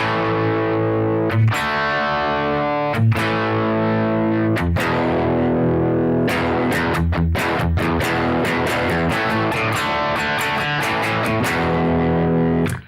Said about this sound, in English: let's have a demonstration of those with my electric guitar